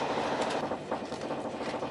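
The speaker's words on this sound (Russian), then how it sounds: "Звук поезда – это что-то невероятное." Steady rolling rumble of the Turkish Eastern Express, Ankara to Kars, running on rails, heard from inside a sleeper compartment, with faint rhythmic clatter of the wheels and no talking.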